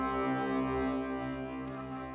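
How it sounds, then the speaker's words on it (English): Sustained drone with dense, stacked tones shimmering under a granular reverb effect, steady and loud throughout with a brief bright flicker near the end, no voices. "something like this, a granular reverb,"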